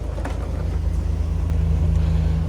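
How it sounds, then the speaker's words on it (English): A Nissan R34 GT-R idles steadily while warming up before a drive to Fuji International Speedway, a low, even rumble that swells slightly and holds close with no talk. "My beautiful R34 GT-R sitting here getting warmed up, ready to go."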